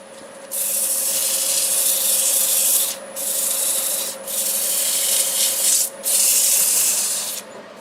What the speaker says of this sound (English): I just sanded it with 80 grit.